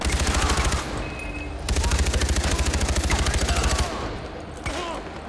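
Automatic weapon gunfire in Far Cry 4, rapid bursts with regular rhythm, loud and close, pausing briefly between long sprays, with some talking underneath.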